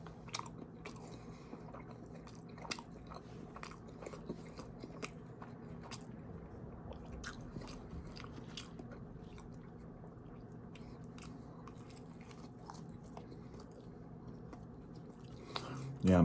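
Someone eats a McDonald's breakfast of McMuffin, McBiscuit and hash browns with coffee, with close, soft, repeated bites and wet chewing going on steadily throughout.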